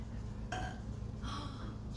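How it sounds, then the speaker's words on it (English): A burp from a pet that has just eaten, heard as a short, fairly close gurgle against a steady low background hum, while a person talks around it. "She burped. This is the queen of burping."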